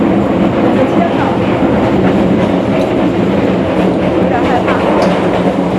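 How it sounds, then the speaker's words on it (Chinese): A Vietnamese sleeper train on narrow-gauge track rattles and sways with a loud, continuous rumbling clatter from start to finish, while a person speaks briefly over it. "越南的这个火车它的晃动非常厉害"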